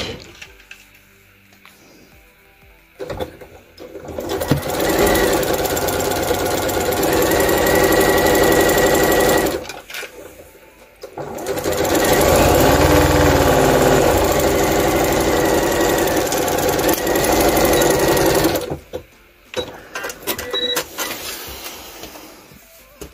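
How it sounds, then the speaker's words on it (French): A sewing machine stitches along the zipper edge of a fabric pouch, with two long runs of rapid mechanical motor chatter separated by a short pause and quieter handling sounds. "On va commencer à coudre tout le long et on coud ici."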